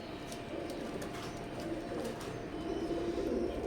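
Imported teddy breeder pigeons coo in their loft, a continuous low warbling murmur from several birds nearby, steady throughout.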